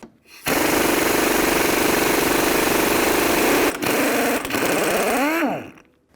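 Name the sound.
7/8 socket removing Cadillac CTS tie rod nut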